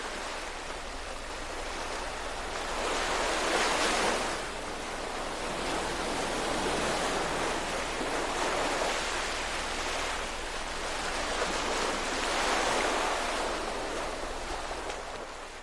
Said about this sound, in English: Imagine as the waves crash up the shore and the water comes closer to you.